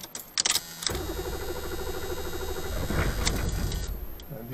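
The diesel engine of a 1981 Oldsmobile Delta 88 Royal Brougham cranks and catches, then settles into a steady, loud clattering run that builds slightly, heard close, with a few short clicks at the start.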